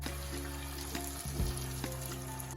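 Water poured into a pan of frying potatoes and pointed gourd sets off a close, steady sizzle with soft stirring clicks and a brief splashy burst midway, no voices.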